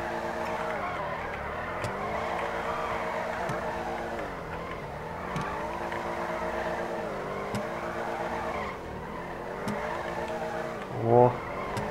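A car engine in GTA V drones steadily throughout, rising and falling in pitch as the throttle changes, with a brief tire or skid squeal near the end; no talking over it.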